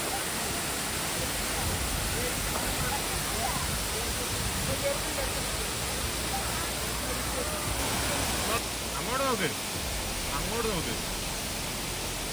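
A swollen monsoon waterfall beside the Wayanad ghat road roars as a loud, dense, continuous rush heard up close at its foot, with a voice speaking faintly underneath.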